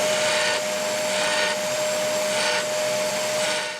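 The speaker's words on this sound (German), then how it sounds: "werde ich hier mit dem Senker Vertiefungen reinmachen" A countersink bit in a power drill cuts recesses for countersunk screws while building a slatted door, giving a steady, loud whirring drone that runs the whole time with slight pulsing swells.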